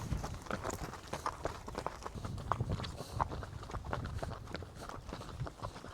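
A horse walks with a soft, steady clip-clop of hooves, faint and continuous against background noise, in a rural setting in Kyrgyzstan.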